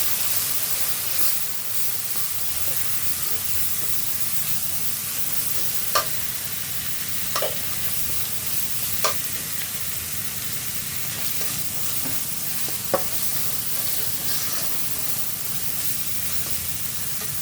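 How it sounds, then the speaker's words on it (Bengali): Boiled potatoes sautéing with salt and turmeric in a pan, giving a steady close sizzle and hiss with occasional sharp clicks of a spatula stirring, and no talking. "এরপর টেস্ট অনুযায়ী লবণ দিলাম, হলুদ দিলাম, দিয়ে এগুলো ভালোভাবে কষাই নেব"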